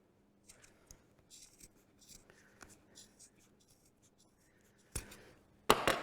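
Scissors cut through a garment waistband during a clothing alteration: soft scattered snips and rustles of fabric, ending in two louder, sharper bursts as the blades close through the band.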